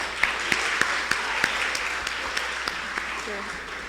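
Live audience applause following a performer's set at an art and talent competition, with a broad wash of clapping punctuated by several sharper individual claps, fairly loud and steady throughout.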